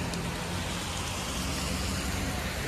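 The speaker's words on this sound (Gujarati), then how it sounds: "વરસાદ ચાલુ છે" Steady, dense rainfall with a continuous hiss, fairly loud and unbroken throughout.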